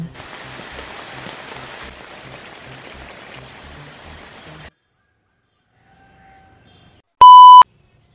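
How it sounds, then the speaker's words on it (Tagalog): Soft, steady rain patter during the rainy season for several seconds, then near silence, followed by a loud electronic beep. "Tuloy pa rin yung ulan."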